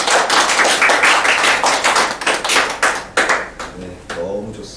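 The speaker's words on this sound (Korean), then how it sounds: "박수로 다시 한번 서로 사랑을 표현하겠습니다." Applause from a church congregation during a service, a dense patter of clapping hands that thins out toward the end, with some voices mixed in.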